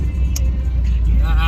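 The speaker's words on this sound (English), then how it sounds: "we're driving the Miata home right now" A failing Mazda Miata MX-5 heard from inside while driving home, with a loud, steady low engine and road drone and a voice talking over it.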